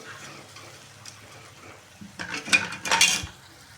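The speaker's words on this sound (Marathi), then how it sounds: "गूळ पण छान असं मस्त परतून घ्यायचं आहे सहा मिनिट सतत विरघळून घ्यायचं आहे गूळ" A spoon stirs and sautés jaggery in a pan for a wheat-flour modak filling, with soft scraping at first and then louder metallic clatters and scrapes toward the end, close by and with no talk.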